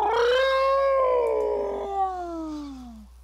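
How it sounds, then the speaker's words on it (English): A small kitten-like whine from an anime-style character in the video game Utawarerumono, a single drawn-out wavering cry that slides downward in pitch over about three seconds, heard alone. "it lets out a tiny kitten whine about being whacked by Arururu"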